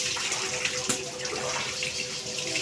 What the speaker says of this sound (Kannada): ನೀರು ಕುತ್ಕೊಂಡು ತಲೆ ಮೇಲೆ ಹಾಕೊಳ್ಳೋಣ.